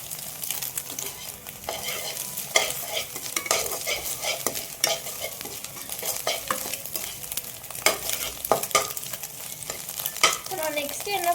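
Egg and onion stir-frying in a hot pan for chicken noodles, a steady sizzle broken by repeated clattering scrapes of a spatula, close and busy throughout.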